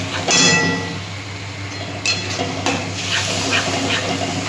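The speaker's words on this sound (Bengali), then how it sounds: "আমি মশলাটা দিয়ে এটা একটু কষিয়ে নেব।" Spice paste fries and is stirred in a pan for a ridge gourd fritter curry, with a close, steady sizzle and scraping utensil strokes against the pan.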